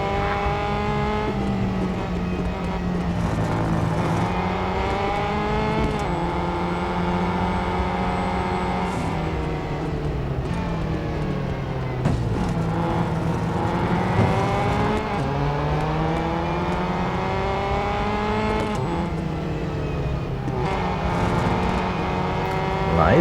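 Ferrari 500 TRC and rival race car engines at Brands Hatch in Real Racing 3 drone and rise through gear changes, repeated upshifts climbing and dropping in pitch as cars accelerate and corner, with a continuous loud engine note throughout.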